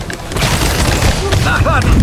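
Gunfire and booming shots in Marvel's Spider-Man, a loud, continuous barrage of blasts with game voices talking over the action.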